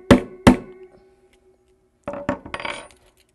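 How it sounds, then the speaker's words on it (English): Two sharp hammer taps close together on a clipboard assembly, then after a pause a quick cluster of three or four more light knocks, close and fairly loud. "tap with my hammer on each side."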